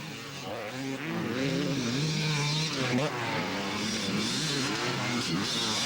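Several 250cc pro motocross motorcycles race around a 1992 Ohio county fair track, engines revving loudly and continuously as the pack passes close, with a faint voice underneath.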